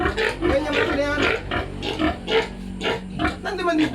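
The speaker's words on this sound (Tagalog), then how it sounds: "Dito ang ingay ng baboy." Pigs oink and grunt repeatedly at close range in a backyard pen, their rhythmic snorts overlapping with a person speaking nearby.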